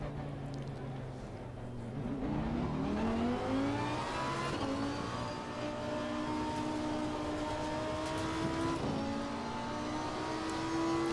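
A Nissan race car at Watkins Glen practice drones with a steady, loud engine note that climbs through revs, drops briefly on a couple of gear shifts, then keeps pulling hard.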